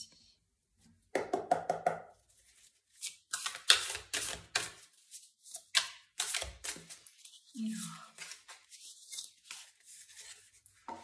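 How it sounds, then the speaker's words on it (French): A small set of five cards being shuffled by hand: quiet, quick papery riffles and taps in irregular bursts, close to the listener, with brief pauses between them. "Alors, 5 cartes, je vais d'abord mélanger."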